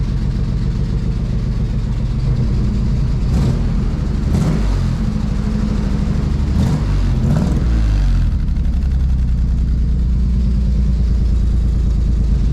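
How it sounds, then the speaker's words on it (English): A rough old engine in a worn Nissan Z32, sounding like a tired farm-truck V8, runs loud and close with a steady lumpy idle broken by several quick throttle blips in the middle, no talking over it. "it sounds like a really shitty old V8"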